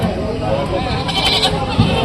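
Young goat kids bleating at a busy sheep and goat market, short cries heard close under constant loud crowd chatter and someone speaking nearby.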